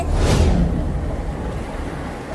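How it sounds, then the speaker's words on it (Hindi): A cartoon effect of water flooding in through a tunnel into a jail cell: a loud rushing, surging wash hits at once, then fades into a steady turbulent roar. "लो, पानी आने लगा।"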